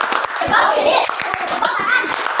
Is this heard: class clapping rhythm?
yes